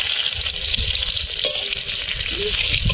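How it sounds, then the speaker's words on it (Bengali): A spoonful of panch phoron hits hot ghee in a kadai for khichuri, giving a loud, continuous frying hiss with a brief clink of utensil midway and no talk. "ঘিটা গরম হয়ে গেছে, আমি 1 চামচ পাঁচফোড়ন দিচ্ছি।"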